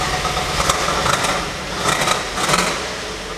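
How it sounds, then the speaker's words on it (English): A 1967 Shelby GT500 engine idles steadily and loudly up close, with a light, rapid lifter tick running through the rumble and a few slightly stronger pulses. "You'll hear the lifter's noise."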